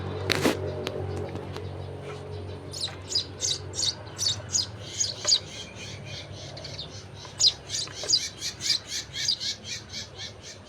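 Repeated bird squawks and chirps, close and loud, come in a quick irregular series after a sharp knock and a low background rumble near a pet bird being fed.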